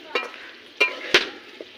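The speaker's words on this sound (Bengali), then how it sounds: "প্রথমে আলুগুলো ভেজে নিই।" Potatoes seasoned with salt and a little turmeric frying in a pan, with a steady soft sizzle and three brief scraping stirs, fairly quiet and without talk.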